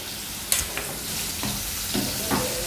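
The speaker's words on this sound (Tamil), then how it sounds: "எண்ணெய் அப்படி கொஞ்சமாக அப்படி எண்ணெய் ஊற்றி நிறைய சிக்கன் போட்டிருக்கேன். ஸோ ஜஸ்ட் ஷாலோ ஃப்ரை மாதிரி." Chicken pieces shallow frying in a little oil in a pan, with a steady sizzle and a few sharp stirring scrapes and clinks, close and fairly loud, no talking.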